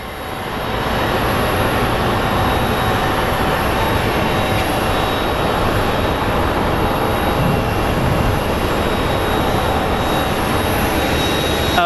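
A British Airways airliner at Phoenix Sky Harbor International Airport gives a loud, continuous jet engine roar. The broad rumble swells in during the first second and then holds steady throughout.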